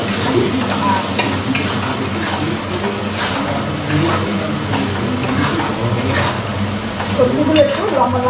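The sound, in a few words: carrots frying in hot oil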